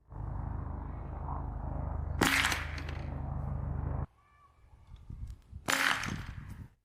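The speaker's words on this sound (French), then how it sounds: "le bruit sec vient seulement du ruban adhésif d'emballage qui éclate" A loud low rumbling hum is broken by a sharp crack of packing tape bursting on a vacuum cannon, then after a quieter stretch a second sharp burst rings out, both close and abrupt.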